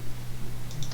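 Light, quick computer mouse clicks sound in a quiet room while someone animates in Source Filmmaker, a few faint taps over a steady low electrical hum.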